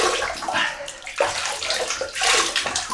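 Tap water running and splashing into a basin as hands wet a face before a shave, a close, continuous rushing splash with brief dips and surges.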